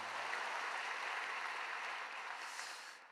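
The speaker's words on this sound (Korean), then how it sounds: "목사님께 감사의 박수 드리겠습니다" Soft, steady applause from a church congregation at a dawn service, heard faintly and evenly for a few seconds, then tapering off.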